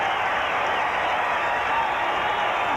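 Baseball crowd of about 20,000 at a 1986 Mets game cheering a strikeout, a steady broad roar of voices and scattered applause that holds without pause.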